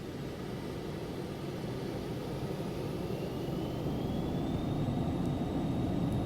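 Jet engines of an Embraer Phenom 300 at takeoff power in X-Plane 11, a steady, loud broadband roar holding even throughout with a faint rising whine above it.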